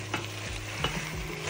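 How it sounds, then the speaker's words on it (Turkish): Potatoes and carrots being stirred and sautéed with onion and tomato paste in a pan, a soft steady sizzle broken by several scraping stirs, close and without talk. "Patates ve havuçlarımızı güzelce soğanla birlikte kavuruyoruz."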